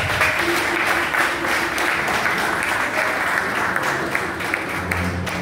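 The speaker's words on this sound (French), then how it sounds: "Est-ce qu'on peut applaudir ça?" An audience breaks into loud, continuous applause at a tribute event honouring footballer Chérif Souleymane, a thick wall of clapping that stays level throughout, with a faint voice sounding briefly near the end.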